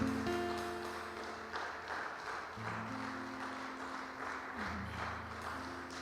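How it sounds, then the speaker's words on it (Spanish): A church congregation claps fairly quietly beneath sustained organ or keyboard chords, the applause staying soft and steady throughout. "Dale un aplauso fuerte al Señor"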